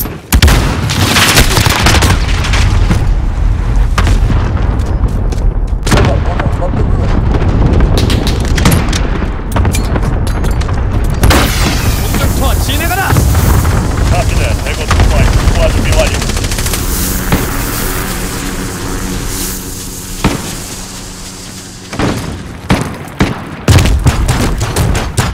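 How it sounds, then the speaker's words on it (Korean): Cluster strike explosions in Call of Duty: Modern Warfare, a long barrage of loud booming blasts mixed with rapid machine-gun fire, thinning into scattered bursts toward the end, with voices calling out over the din. "아군 확산탄 접근 중!"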